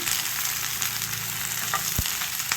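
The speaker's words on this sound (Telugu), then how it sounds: "ఇప్పుడు ఈ బెండకాయ ముక్కలను అయితే ముందుగా వేయించుకుందామండి" Okra (lady finger) pieces frying on a high flame, a dense steady hiss of sizzling oil up close, with a couple of soft stirring knocks and no voices.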